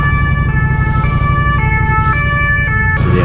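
A loud, close police siren wails continuously, its two-tone pitch alternating in a steady cycle over engine rumble.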